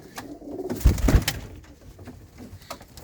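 Pigeons coo softly several times, with a louder close burst of fluttering or handling noise in the middle and faint cooing continuing afterward, no speech.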